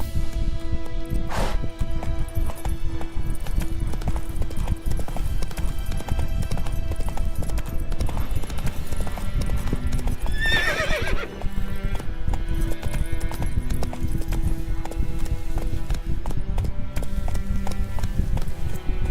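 Horse galloping in the video game The Witcher III, rapid rhythmic hoofbeats pounding continuously throughout with a brief whinny near the middle, loud and close, no talk.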